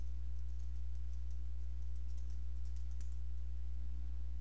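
Faint, rapid clicks from a computer keyboard as an email address is typed, a quick run of light keystrokes over a steady low electrical hum.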